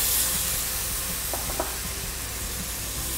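Gluten-free tamari sizzles hard in a hot pan with garlic and ginger, a steady bright frying hiss with soft stirring clinks, close and continuous throughout.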